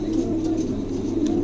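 A pair of homing pigeons for sale coo in a brief, steady low burble, close and fairly loud, with no talk over it.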